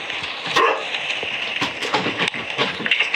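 Inside the game Metel, chapter 3, a dog gives a few sharp yips and whimpering barks, close and fairly loud over a steady background hum.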